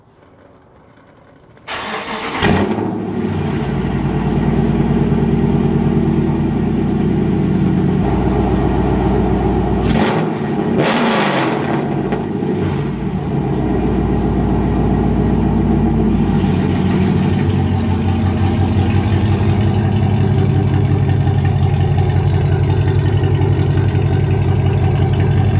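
Widebody Dodge Charger with BBK longtube headers cranks over and fires up, then settles into a loud, steady, deep idle with a brief blip partway through; no talking.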